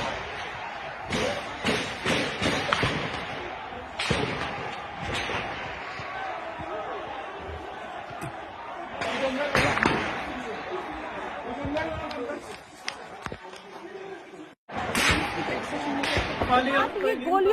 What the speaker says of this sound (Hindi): ये गोलियों की तड़तड़ाहट, लोगों के आवाज में वो डर, भगदड़